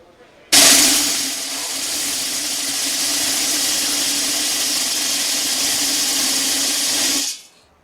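About 500 BBs pour in a dense stream into a metal soup pot, a loud continuous rattling hiss lasting several seconds before stopping abruptly.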